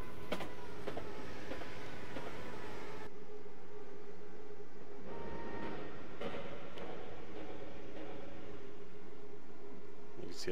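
A commuter train runs along the tracks in Train Simulator 2014 on the London to Brighton route, a steady rolling rumble with a long hum and occasional clicks and clatter from the wheels, heard alone without talk.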